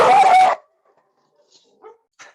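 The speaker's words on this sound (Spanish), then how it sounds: "Oh, ese perro." A dog barks once, loud and close, in a short burst, followed by near silence with a few faint distant sounds.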